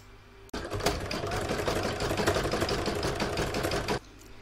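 A sewing machine runs one continuous burst of a few seconds, stitching a zigzag joining seam through fabric on a seashell-shaped catch-all project, with quiet room tone before and after.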